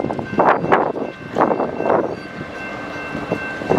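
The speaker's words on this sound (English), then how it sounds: "not long after that eastbound UP manifest came through" An eastbound Union Pacific manifest freight train passes at Tehachapi, heard as close, heavy rumbling surges in uneven bursts over a few seconds with no talking.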